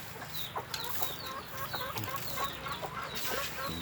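Free-range village chickens cluck softly and repeatedly nearby, with scattered short calls over a quiet outdoor background.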